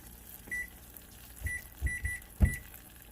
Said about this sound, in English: So let me set the timer.